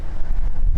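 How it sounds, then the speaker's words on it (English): Strong wind buffets the microphone outdoors in De Smet, South Dakota, making a brief, loud, steady low roar with no voices. "It's very windy."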